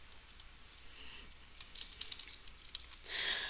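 Typing on a computer keyboard into a text editor, a quiet run of soft, irregular key clicks that stays steady through the clip and is joined by a brighter burst of clacking near the end.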